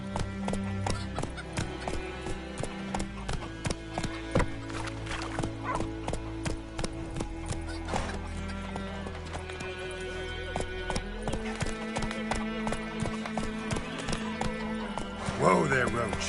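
Roach, a horse in The Witcher 3 video game, gallops with rapid rhythmic clip-clop hoofbeats and neighs, with music and a voice talking over the hooves.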